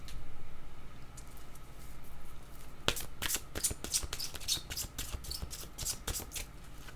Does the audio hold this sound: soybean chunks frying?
no